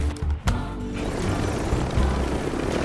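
A helicopter in Call of Duty Warzone thrums loudly and close, with a brief sharp transient at the start before the steady rotor drone takes over.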